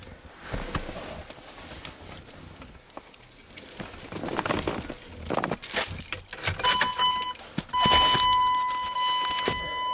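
Keys jangle and clink close by in several bursts beside a Cummins-engined vehicle, with shuffling and a few clicks around them and brief tonal beeps near the end.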